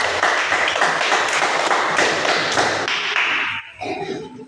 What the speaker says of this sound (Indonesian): tepuk tangan buat kelompoknya Trisel